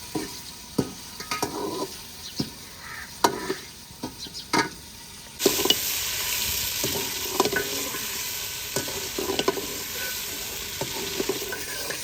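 Chicken browns in ghee while being stirred, starting with separate scraping stirs, then becoming a louder continuous sizzle broken by more stirring strokes.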